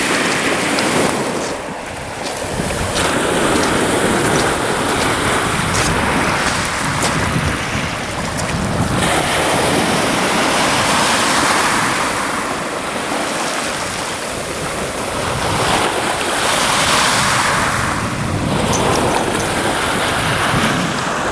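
Waves wash steadily along the Lake Superior shore under an offshore wind, a broad continuous rush with gentle swells. Wind buffets the microphone throughout, and no one speaks.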